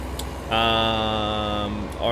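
Stock truck engine in a trucking video game, a steady droning hum with a rising whine that kicks in after a brief pause and holds, loud and close, with no talk over it.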